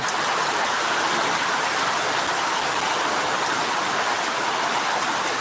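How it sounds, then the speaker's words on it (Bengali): Heavy rain pours in a dense, continuous hiss, loud and unbroken from start to finish. "আমাদের এখানে আজকে প্রচণ্ড বৃষ্টি"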